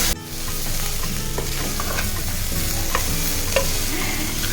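Vegetables with dry fruits and peanuts fry in a pan for broken wheat khichdi, a loud, steady sizzle with occasional stirring scrapes, close and continuous, no talk.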